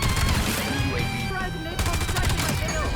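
Rapid automatic fire from a Maddox rifle in a Call of Duty multiplayer match, loud dense bursts continuing throughout amid game sound effects, with a voice talking over it.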